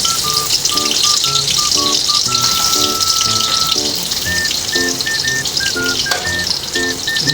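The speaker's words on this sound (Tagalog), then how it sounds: "Unahin natin ang sibuyas." Onions sauté in a pan for a Batangas-style countryside dish, a steady close sizzle running throughout with repeated high chirping bird calls over the top and no talk.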